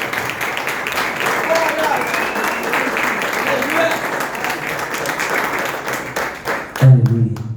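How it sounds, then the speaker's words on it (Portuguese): Sustained applause from a church congregation, dense and steady, with a voice rising over it near the end. "Recebe o servo do Senhor com as palmas nessa noite"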